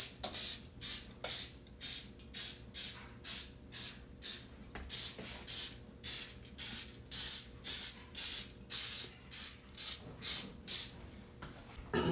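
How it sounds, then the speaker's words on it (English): Repeated short bursts of olive oil spray into a baking pan, about twenty quick even puffs in a steady rhythm, close and fairly loud, no talking. "we're going to spray a little bit of olive oil in the bottom of each hole."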